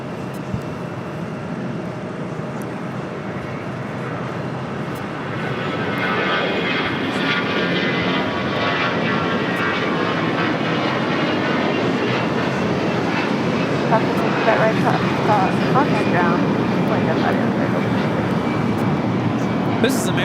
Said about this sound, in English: This is American Airlines 801 taking off to Las Vegas on an A321.